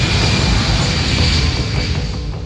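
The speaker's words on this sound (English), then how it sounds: "The Boeing 777 leaves the tarmac of Kuala Lumpur Airport for the very last time." Boeing 777 jet roaring as it takes off from the tarmac at Kuala Lumpur Airport, a loud, steady broadband engine roar that fades slightly toward the end.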